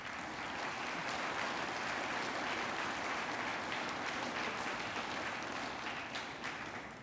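Sustained applause from an audience at a Veterans Day program welcoming DAR school board members, steady and fairly loud across the whole stretch and easing slightly near the end.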